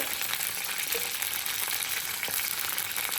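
Dried red chillies, urad dal, chana dal and peanuts fry in hot oil for lemon pulihora, producing a dense, steady crackling sizzle, close and continuous, with faint clicks.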